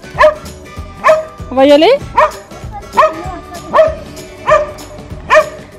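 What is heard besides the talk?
dog barking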